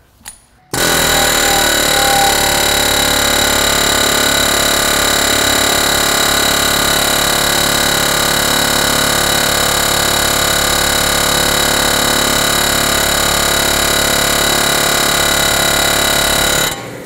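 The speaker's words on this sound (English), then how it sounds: "I think an air hammer can be effective" An air hammer rattles loudly and continuously on a metal axle nut of a 2005 Honda Odyssey for many seconds, a rapid, even buzzing hammering that starts abruptly and stops near the end.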